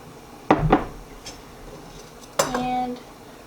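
A utensil scrapes and clanks against a metal pot while taco meat of beef and venison is stirred with seasoning and juices, two separate bursts of clattering with quiet between, and a voice talking nearby.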